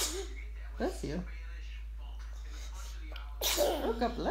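A sharp sneeze bursts out near the mic, with people talking softly before and after it.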